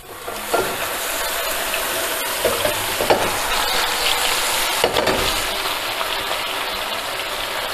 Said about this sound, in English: I have some garlic here sizzling in olive oil and it's just about ready to put the mushrooms in